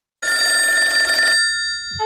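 A telephone rings on a recorded call to a radio station: one loud, bright electronic ring burst that cuts off abruptly, followed by a brief low sound.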